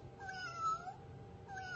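A cat paw desk toy with a trigger lets out a synthetic kitty meow, two short rising-falling mews close by over a soft steady background hiss, with no talking.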